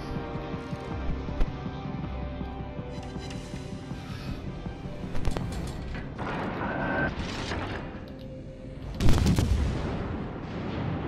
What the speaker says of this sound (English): I'll shoot at it